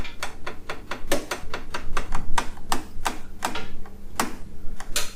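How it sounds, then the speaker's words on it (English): Noisy central heating pipework clicks and ticks in a sharp, irregular series of loud taps, some in quick clusters and others spaced apart, over a faint background hum. "It's about fixing clicking central heating pipes."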